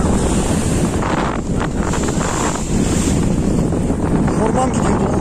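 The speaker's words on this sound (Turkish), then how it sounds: "Ne rüzgar lan?" Strong seaside wind roars steadily at Fethiye with the wash of surf beneath, a loud, constant buffeting with little letup.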